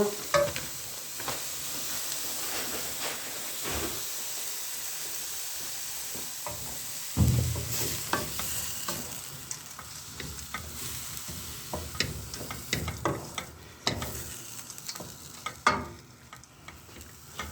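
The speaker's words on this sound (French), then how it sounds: "la viande hachée. Là, on remue bien." Minced meat fries in a pan with a constant soft sizzle, broken by irregular scrapes and knocks as it is stirred, close up and fairly quiet, without talk.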